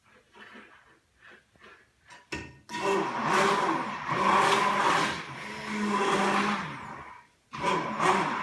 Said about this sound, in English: And I'm just going to blend it with my immersion blender.